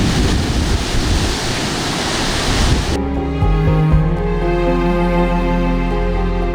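Sea waves break on a fishermen's coast as a loud, rushing broadband wash for about three seconds, then cut off abruptly and give way to a steady tonal, music-like sound.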